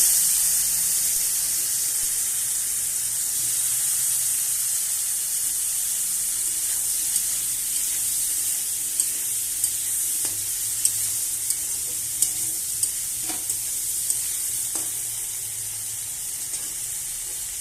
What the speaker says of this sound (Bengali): শুধু হলুদ লবণ দিয়েছি, এটা দিয়েই পটলটা ভেজে নেব